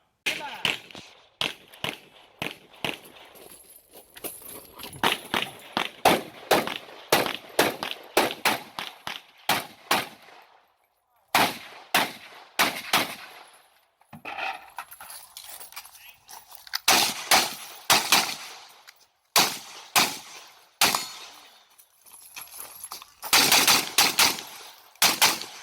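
An Arsenal 107R AK rifle fires in a shooting match, delivering loud, sharp shots in uneven strings and bursts with brief pauses, some rapid runs and some slower, deliberate single shots, close and dominant throughout.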